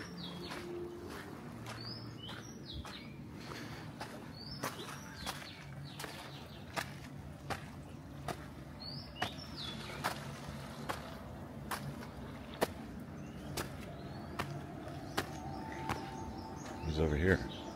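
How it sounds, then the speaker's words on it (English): Birds sing outdoors at a hotel on Koh Samui, faint chirps scattered over a quiet backdrop with sharp clicks and footsteps, and a voice speaking now and then. "Beautiful birds singing."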